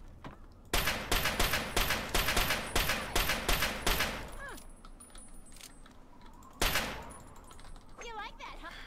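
Rapid gunfire in Fallout 3: a dense burst of repeated shots, then a lull and one more loud blast, with a voice talking over the action.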